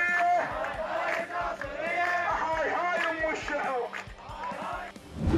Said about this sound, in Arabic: الهزيج التي يطلقها المتظاهرون على هيئة هتافات